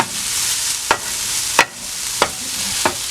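Cauliflower fried rice being stir-fried in a pan, a steady bright sizzle broken by four sharp scrapes of a utensil at roughly even intervals, close and fairly loud with no voices.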